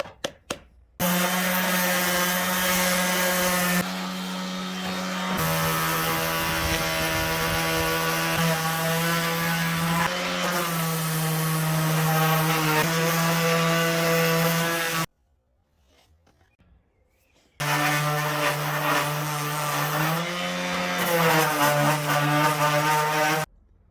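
Power sander working boat wood with 80 grit on a Dufour 31 sailboat, a loud continuous droning whine broken by short pauses and one longer stop, close and without talking.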